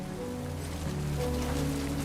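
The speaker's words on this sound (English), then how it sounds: "Great. Rain." Steady rainfall in the video game Death Stranding 2, a dense, even hiss of drops with low rumbling underneath, continuous and fairly loud throughout.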